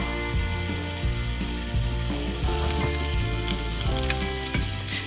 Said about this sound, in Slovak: do panvice vložíme všetky 4 stehná, a to s kožou na dno panvice. Takto stehna smažíme na vlastnom tuku